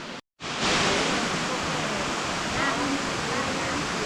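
Haew Narok waterfall in Khao Yai gives off a dense, steady roar of rushing water. The roar holds at an even level after a brief silent gap at the start, heard from nearby.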